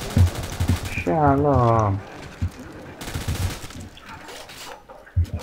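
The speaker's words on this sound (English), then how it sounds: "The M249. Oh, yeah, right, machine gun." M249 machine gun fire in the game Call of Duty: World at War comes as rapid, rhythmic bursts of shots. A player's voice cuts in between the volleys.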